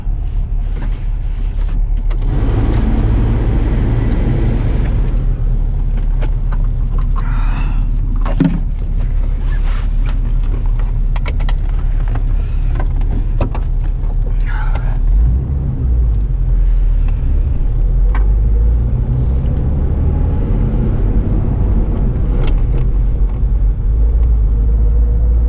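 A 2004 Jeep Wrangler TJ that has sat unused idles to warm up, a loud steady low rumble close by with some wind buffeting and faint clatter layered over it.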